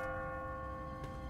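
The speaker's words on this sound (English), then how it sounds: "What kind of church bell goes off at 20 past the hour?" A church bell tolls with a sustained, ringing resonant tone in The Walking Dead Season 1 video game, humming steadily and moderately faint across the whole moment, with no voices over it.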